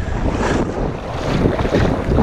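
Strong wind buffets the microphone on a shoreline while fishing for striped bass, a loud, steady roaring rumble with gusty surges and possible surf underneath, with no voices.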